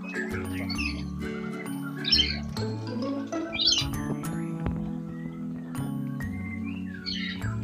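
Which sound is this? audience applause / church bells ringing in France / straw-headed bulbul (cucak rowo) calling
straw-headed bulbul (cucak rowo) calling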